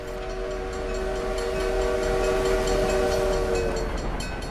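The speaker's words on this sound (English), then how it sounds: "Choo-choo! It's a train." A train rolls past in the video game The Last Hero of Nostalgaia, a steady loud rumble with a sustained horn-like tone over the running noise.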